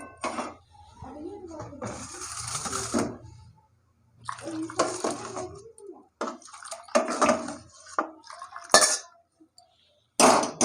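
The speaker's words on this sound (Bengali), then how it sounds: "জলটা গরম হয়ে গেছে, এই ডালের মধ্যে দিয়ে দেবো।" Hot water splashes and pours into a pan of dal in a home kitchen, with clinking cookware in between. A person talks over much of it.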